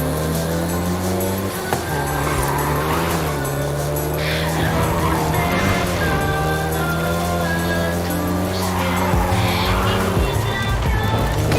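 A Volkswagen Golf GTI in Forza Horizon 5 drives with a steady, loud engine drone whose pitch rises and dips as it shifts and accelerates, with faint tire noise, continuous throughout.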